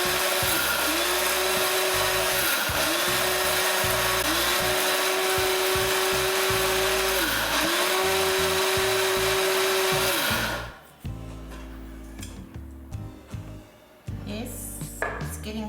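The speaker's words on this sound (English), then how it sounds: "This is going to go back on the top now and we'll grind it some more." Electric grinder grinding dried homegrown peppers into paprika, a loud close whirring roar with repeated rising motor pitch sweeps for about ten seconds, then stopping into quieter knocks and handling noises.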